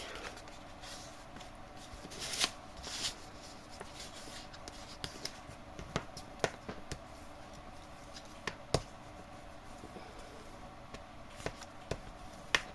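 Paper is folded in half and creased with soft rustles and several sharp crisp pressing taps, close up in a quiet room.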